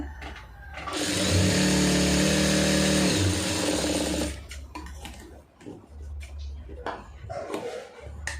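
A sewing machine runs in one steady burst of stitching through a two-layer blouse lining, then stops; quiet handling noises and faint talk follow.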